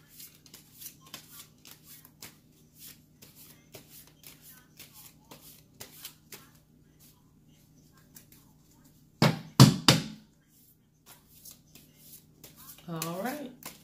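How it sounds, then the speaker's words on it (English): Tarot cards being shuffled by hand, soft repeated riffling and slapping close by, with a louder riffle burst near the end and a brief voice. "Let me get them nice and shuffled"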